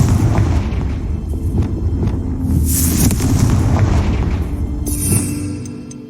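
Confringo fire-spell blasts in Hogwarts Legacy, a dragon fight in the game, with loud booming bursts near 2.7 and 5.1 seconds rising over a continuous rumbling battle din.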